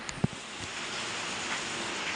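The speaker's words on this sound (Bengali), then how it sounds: "তো বন্ধুরা দেখো বাইরে খুব বৃষ্টি হচ্ছে, দেখো খুব বৃষ্টি হচ্ছে বাইরে আজকে, রাস্তায় জল জমে যাচ্ছে।" Heavy rain falls outside, a steady, diffuse hiss like distant downpour with a couple of faint knocks at the start.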